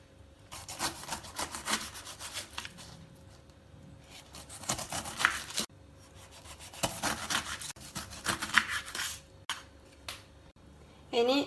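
A knife saws the peel off a pineapple being prepared for homemade wine, producing close, scraping, fibrous cutting strokes in uneven bursts separated by brief pauses, with faint kitchen clatter.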